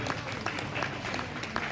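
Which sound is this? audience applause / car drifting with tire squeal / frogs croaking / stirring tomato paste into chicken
audience applause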